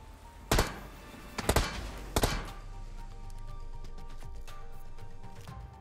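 A grenade thrown in a battle royale shooter, heard as three sharp thumping impacts in quick succession over a steady low game ambience, with no voices.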